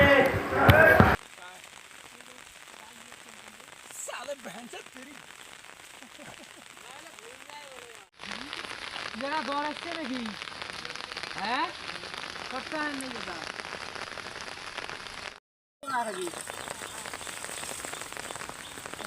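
Light drizzle falls outdoors with a soft, steady patter and hiss of raindrops, joined by scattered chirping calls and cut by short breaks and a loud burst at the very start.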